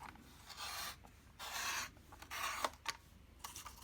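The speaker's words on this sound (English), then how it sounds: "I'm going to take my trimmer." A paper trimmer slices down planner pages, a few soft, quick swishing scrapes of the blade across paper, close and quiet with short pauses between strokes.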